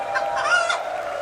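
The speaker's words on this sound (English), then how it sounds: "we've got a couple of chicken noises as well" Chicken clucking sound effects play from a soundboard during an esports Rainbow Six grand final broadcast, a short burst of bright, fowl-like clucks heard alone.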